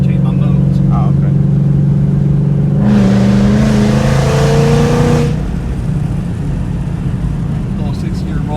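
A supercharged 2018 Ford Mustang S550 with a Coyote VMP engine and active exhaust accelerates inside the car, giving a loud, rising engine roar for a few seconds. Steady cabin drone continues around it, and people talk briefly.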